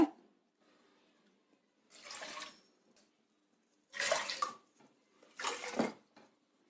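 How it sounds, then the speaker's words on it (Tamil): Three separate bursts of water pouring into a metal pressure cooker, each lasting under a second, with quiet pauses between them. "ஒரு மூணு டம்ளர் தண்ணி ஊற்றி நம்ம வேக வச்சிடலாம்"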